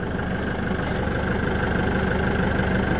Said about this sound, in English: This motor's got